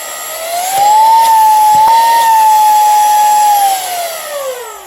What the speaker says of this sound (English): when we push again goes into second gear with more suction